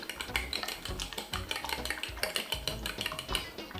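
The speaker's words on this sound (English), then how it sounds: "I'll just give it a good whisk to combine" Cracked eggs are whisked in a bowl with a whisk that clatters rapidly and rhythmically against the sides, close and fairly loud, with no talking.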